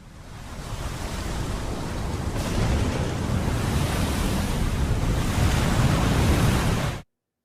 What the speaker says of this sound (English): Just a storm.